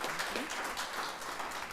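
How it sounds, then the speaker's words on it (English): A gathered crowd applauds laptop recipients at a mayor's student assistance event, a soft, distant wash of clapping that holds evenly through a brief moment. "let's give them a hand of applause"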